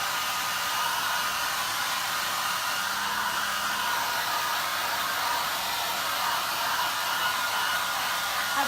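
A hair dryer blows steadily on a painting, a constant loud whooshing hiss that runs unbroken from start to finish with no talking.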